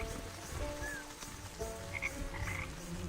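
Frogs croak in a swamp in the video game Wytchwood, a few short croaks and chirps rising over a steady ambient background, with no speech.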